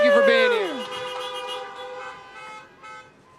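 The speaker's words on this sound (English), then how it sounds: "Give you guys, honk your horns. Give you guys a little horn." Several car horns honk together at a high school drive-in information night, loud tones that fade over a few seconds as crowd noise continues.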